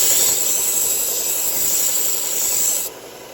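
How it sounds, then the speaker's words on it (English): A knife burr is refined with very light pressure on a 1x30 sharpening belt, making a continuous close hiss and rasp that drops off abruptly near the end. "Now I just very lightly, just barely even touching the belt, just to do a little work on that burr before I get over here."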